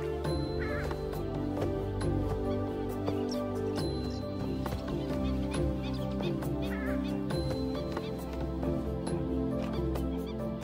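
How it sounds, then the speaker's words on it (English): A purple swamphen, or sultana bird, gives loud, harsh, crow-like squawks in a couple of bursts over steady music. "This is the purple swamp hen, also called the sultana bird, famed for its very loud, explosive call."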